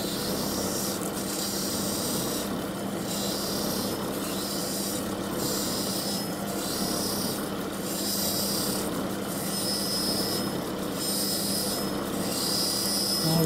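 Loud, continuous rasping grind as the edges of a jewelry cabochon are roughed in on a lapidary wheel, a steady close whir with faint pulsing and no speech.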